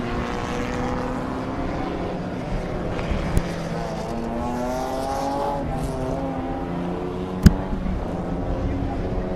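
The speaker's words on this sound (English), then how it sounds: "It's a big field of cars, 30 of them in total, out on track and about to go to battle for their first heat of the day here." A 30-car field of BMW race cars in a national championship heat at Zwartkops Raceway, engines droning and rising and falling in pitch as they pass at a distance, with a commentator talking over the noise.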